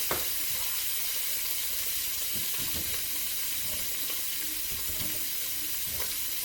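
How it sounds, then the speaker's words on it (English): Potatoes sizzling in a hot pan, a soft, even frying hiss close by with faint scattered clinks and scrapes, and no speech. "Now this pan's hot, so be careful. And I'm just going to dump these potatoes right in there."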